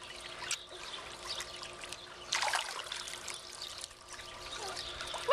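Water splashes and trickles in a quiet setting, with soft dribbles and one brief burst of splashing in the middle, faint and close with no talk.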